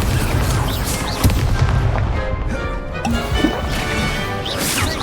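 Spellcasting in Hogwarts Legacy, the Incendio fire spell: crackling, crashing bursts and booms in quick succession, loud and close, with a brief fiery whoosh and a few sharp whacks, no talk over it.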